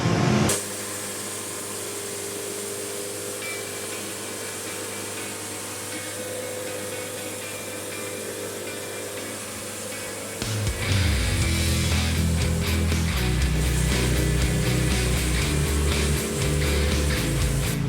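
A steady mechanical whine from a Wood-Mizer sawmill runs for about ten seconds, then the saw bites in, grinding and roaring through a 3-foot-diameter walnut log for the rest.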